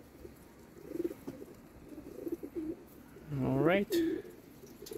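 Racing pigeons at their bath give one clear rolling coo partway through, close and distinct over faint background noise, with a brief spoken word nearby.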